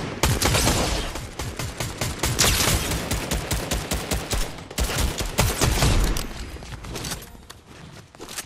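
Rapid bursts of assault rifle fire in the Fortnite video game, loud sharp cracks in quick repeated volleys with a brief pause midway, no talk.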